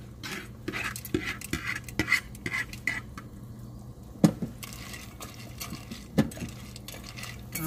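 Cooked lima beans stirred in a pot with a utensil, giving a steady run of close scraping and clinking strokes with a few sharper knocks, and no talking.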